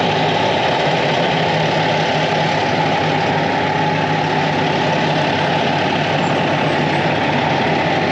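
An orange custom truck fitted with lake pipes idles with a steady, loud, rough engine rumble that holds evenly for about eight seconds, no one speaking.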